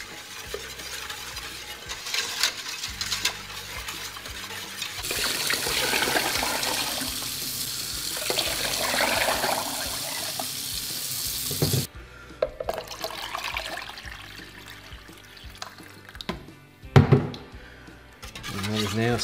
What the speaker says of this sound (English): I'm just going to stir that up until all that salt disappears